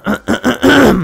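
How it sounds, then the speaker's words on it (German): A few harsh, close coughing bursts from one person during a DarkOrbit gaming session, three short hacks followed by a longer, rasping one that trails off. "der Husten bringt mich jetzt auch noch um"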